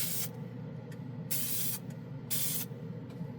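Glidden Max-Flex spray paint can spraying onto plastic models in three short hissing bursts, each lasting about half a second, close and clear against a quiet background with no talking.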